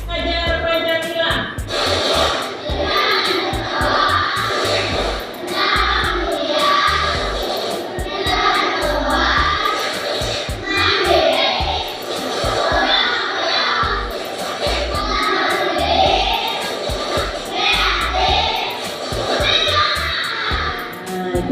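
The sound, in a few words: group clapping chant Tepuk Pelajar Pancasila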